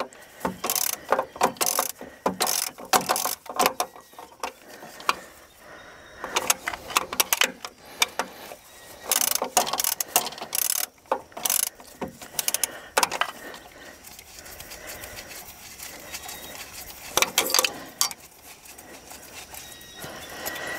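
Ratchet wrench clicking in repeated bursts while bolts are removed from a water-flooded skidder engine, close and loud with irregular pauses between strokes.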